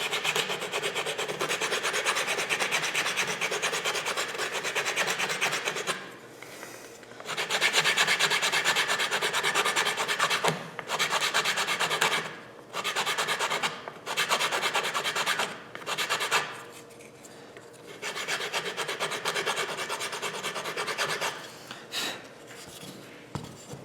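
A paint stick wrapped in glued-on sandpaper is rubbed back and forth over a guitar neck on a 335-style kit build, giving close, raspy sanding strokes in long runs with brief pauses between them.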